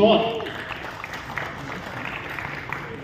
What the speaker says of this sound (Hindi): एक बार जोरदार तालियां प्लीज।